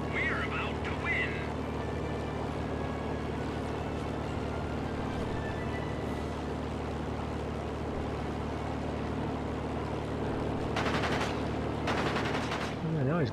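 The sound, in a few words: aircraft gunfire in video game World of Warplanes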